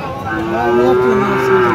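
An eight-month-old Australian-breed bull calf at the Amraid cattle market in Gazipur lets out one long, loud, close moo with a wavering tone, rising and holding before fading.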